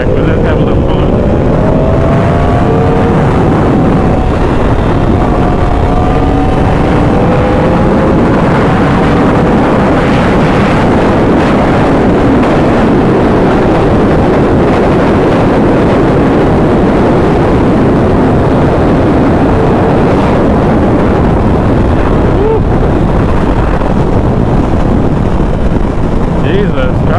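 Stock Yamaha R1 sport bike being ridden and accelerating, engine pitch climbing through gears beneath heavy, constant wind roar at the rider, with a voice talking over it at times.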